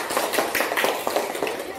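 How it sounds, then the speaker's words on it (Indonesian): A class of students applauds together after a lesson on soybean food products, a dense run of sharp hand claps from nearby that keeps going evenly, with faint voices under it. "tepuk tangan dong"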